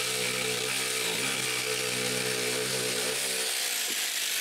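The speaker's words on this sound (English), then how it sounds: "Finally, I cut a new notch on each rafter." Chainsaw notching new rafters for an outhouse at a cottage, a steady loud motor drone with pitch dips as the bar bites into the wood, running continuously without talk.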